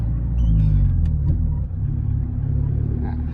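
A remapped Isuzu D-Max Euro 3 pickup engine pulls away through first and second gear, a steady loud low rumble with rising and falling engine tone throughout.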